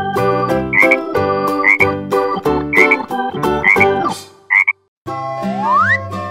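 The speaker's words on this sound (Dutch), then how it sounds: "Kikker." Frog croaks come from a children's farm-animal toy, several close, loud croaks in a steady rhythm over jingly toy music, then a brief silence followed by a rising electronic whistle.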